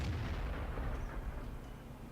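Tank cannon fire in World of Tanks, a single heavy low-frequency boom with a rumbling tail that decays over about two seconds, fairly loud with no talking.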